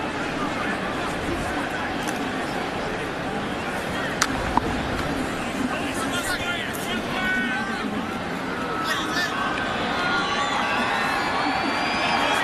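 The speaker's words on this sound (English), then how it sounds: "Crowd begins to get into it a little bit here at Paul Brown Stadium." A football crowd at Paul Brown Stadium murmurs and cheers at a moderate level, a broad babble of many voices with a few sharp shouts and whistles rising above it.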